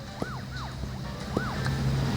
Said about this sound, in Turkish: Siren de çalışıyor.